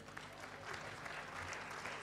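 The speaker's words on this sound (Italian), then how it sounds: "Un grande applauso." Audience applause at a civic presentation in Casalecchio di Reno, a steady, fairly quiet wash of clapping from a crowd that holds evenly through the moment.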